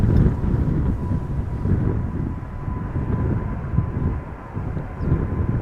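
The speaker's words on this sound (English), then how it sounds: "here is the first heavy of the day. It is United Airlines in the Star Alliance livery, Boeing 777-200, going to Newark." A United Airlines Boeing 777-200 heavy jet in Star Alliance livery at Amsterdam Schiphol, a deep, rumbling engine roar buffeted by wind on the microphone, continuous and fairly loud, with no talk.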